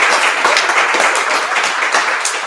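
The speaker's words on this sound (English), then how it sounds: "clap it up for him" Steady crowd clapping at a community conversation event, a dense continuous burst of applause from the audience with no talking over it.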